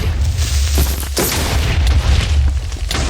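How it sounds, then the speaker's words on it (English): A summoned thunder spell in a video game booms loudly and continuously, deep rumbling with sharp cracking bursts layered over one another, alone without voices. "That is the thunder I summoned."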